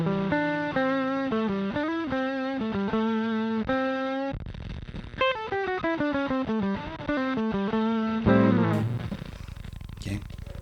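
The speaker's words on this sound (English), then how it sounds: "What's a normal bit crush? Okay, a little bit more noise and static there." Sonicake Wave Crush bit crusher pedal set to a normal bit crush, adding noise and static to a played instrument: distorted, stepped, buzzy notes in quick melodic runs, loud and dry, with a short harsh burst of static at the end.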